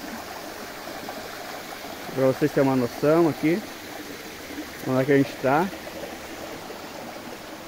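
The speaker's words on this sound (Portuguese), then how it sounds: "essa cascata no meio da natureza" A waterfall and stream at Cascata Serra Velha in Igrejinha, Rio Grande do Sul, pour with a continuous broadband rush, while someone speaks briefly over the water.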